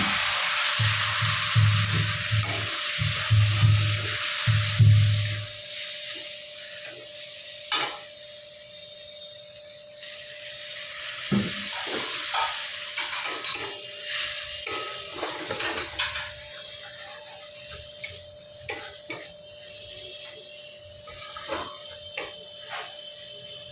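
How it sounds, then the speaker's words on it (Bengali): Onion and spice paste with chili powder and a splash of water sizzles and is stirred in a pan for a Bengali small fish curry, with steady scraping strokes over soft frying that quiets toward the end. "এবার আমরা ভালো করে এটা কষিয়ে নেব, তেল ছাড়া অবধি অপেক্ষা করব একটু।"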